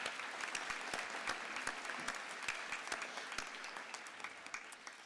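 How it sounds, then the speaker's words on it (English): A school graduation audience applauds sports staff in a steady, moderately distant patter of many hands, with individual claps popping out over the even wash and tapering slightly toward the end. "If we can all please give them a round of applause."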